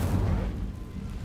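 A fire spell bursts in Hogwarts Legacy, a low rumbling whoosh of flame that stays loud and dense for about a second, with no pause or talk over it.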